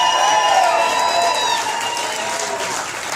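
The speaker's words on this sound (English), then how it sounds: "I suggest maybe we cheer Don Tristan DeLuna, his commander, and his Fiesta forces." A crowd at a Pensacola surrender reenactment cheers Don Tristan DeLuna, loud sustained cheering and applause with whoops and raised voices that ease slightly toward the end.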